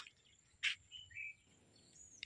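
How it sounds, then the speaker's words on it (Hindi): Small birds chirp near a house in a few short, thin calls over a faint insect-like background. "ये छोटे छोटे चिड़िया यहाँ पर रहते हैं"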